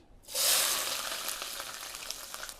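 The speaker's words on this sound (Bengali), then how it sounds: "এটার মধ্যে আমি পেঁয়াজ কুচি দিয়ে দিচ্ছি।" Chopped onion drops into hot oil in a Miyako multi cooker and bursts into a loud, close sizzle that settles into steady frying crackle, with no talking.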